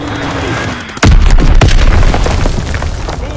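A bomb explodes in the Rainbow Six video game: a sudden loud boom with heavy low rumble, followed by a second blast and a sustained roaring, crackling tail.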